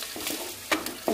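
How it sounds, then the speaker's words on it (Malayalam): Shallots and curry leaves frying in coconut oil over a low flame, giving a soft steady sizzle with a few sharp stirring scrapes, close and quiet. "ചെറിയ തീ കിടന്ന് നന്നായിട്ടെണ്ണം മൊരിയട്ടെ കേട്ടോ"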